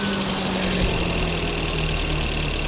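A BMW engine idles close by with a steady, droning hum and a slightly uneven undertone, continuous throughout with no speech.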